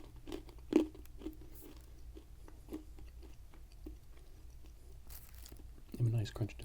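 Dried banana chips are bitten and chewed in a few soft, close crunches, scattered and quiet against a hushed background.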